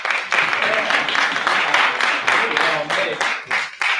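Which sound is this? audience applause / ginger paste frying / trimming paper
audience applause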